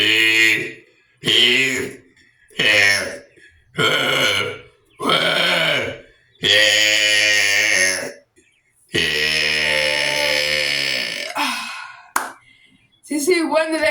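A person lets out a series of loud, drawn-out burps close up, about eight separate belches, some short and some long and croaking, with brief pauses between them.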